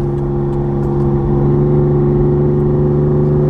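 A 1973 Ferrari 246 GT Dino with a slipping clutch, its engine humming in a steady, loud, close drone with a strong, even tone and a slight rise in pitch as it revs.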